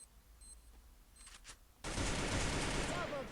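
Gunfire in the battle royale game Free Fire: after a few quiet clicks, a sudden dense burst of rapid shots erupts and roars on continuously, loud and close.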